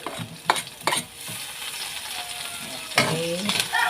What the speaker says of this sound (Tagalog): Lagay na natin ang bawang at sibuyas.